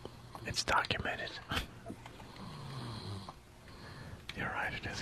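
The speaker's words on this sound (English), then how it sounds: "the snoring's getting better" A man's snoring breaths rise and fall amid background noise and some faint whispery voice sounds, moderately loud with irregular rhythm.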